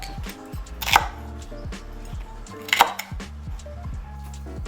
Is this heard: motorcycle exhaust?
no